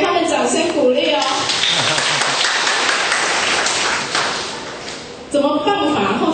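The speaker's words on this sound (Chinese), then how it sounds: "先给他们掌声鼓励哦" Audience applause at a lecture, a dense burst of clapping from many hands that swells for about four seconds, then fades and cuts off, with a speaker's voice before and after.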